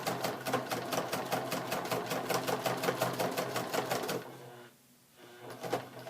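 A domestic sewing machine stitches fabric for a collage pencil bag, its needle hammering in a fast, even rhythm for about four seconds before stopping. A brief quiet follows, then a couple of faint mechanical clicks.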